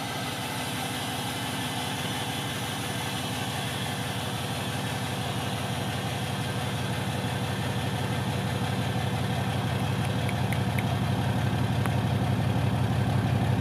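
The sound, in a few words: 6.7 Cummins diesel engine idling with straight pipe exhaust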